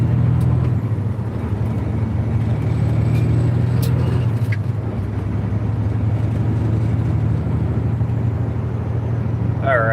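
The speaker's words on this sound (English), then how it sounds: "I'm gonna try and grab a couple gears and disappear." A loaded semi truck on the road, its engine droning low and loud with steady road rumble and brief shifts in pitch as it pulls through gears, heard from inside the cab.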